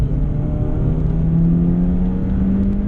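Car engine pulling steadily under acceleration during a driving lesson, a continuous close hum with slowly rising pitch, no voices over it.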